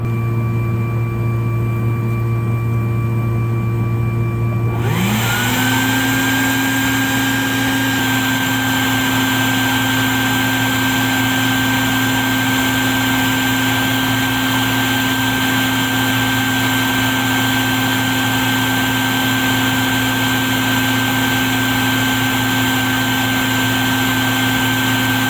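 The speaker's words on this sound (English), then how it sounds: "I'm gonna go ahead and start vacuuming." A vacuum being used to remove a honeybee hive from under a mobile home in Lakeland, Florida, starts up after a few seconds of a low background drone, then rises into a loud, steady whine with an even tone that persists to the end.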